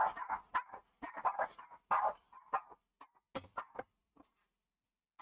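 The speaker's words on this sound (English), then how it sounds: "They're going to bark like crazy." Several dogs bark indoors in bursts of sharp, loud yaps, close by and overlapping, thinning out toward the end.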